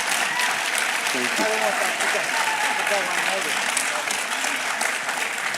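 An audience at a campus talk on Jewish student life breaks into sustained loud applause, with a speaker's voice briefly heard over the clapping.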